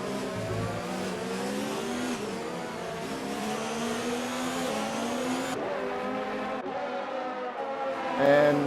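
Race car engines from a video game racing league event at China, with a McLaren among the cars, drone loudly and continuously, pitch rising and falling through gear changes, and a brief burst near the end.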